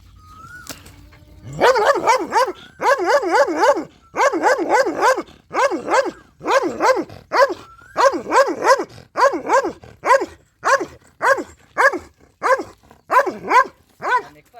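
Pet dogs bark at a cobra near a home, a loud, steady run of repeated barks and yelps in quick bursts that carries on throughout with only brief gaps.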